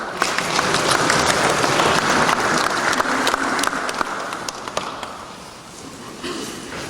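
A congregation at a funeral church service applauds in a dense, sustained burst of clapping that fades slightly toward the end, with no talk over it.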